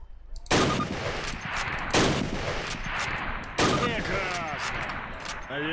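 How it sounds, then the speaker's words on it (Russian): A rifle fires at a target on a range in the Call of Duty video game. Three loud, sharp shots sound at spaced intervals, each trailing off in a long ringing echo, with faint background noise between. "сделай 2 выстрела по мишени"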